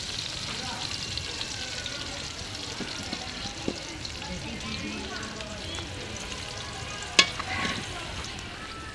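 Mixed greens cooking in oil with onion and green chili make a low, steady frying hiss with scattered light clinks and one sharp knock near the end.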